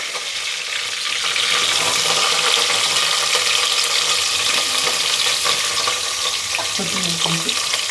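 Mint, green chilies and onions frying in oil for biryani, a steady broadband sizzle close up throughout, with stirring clatter near the end.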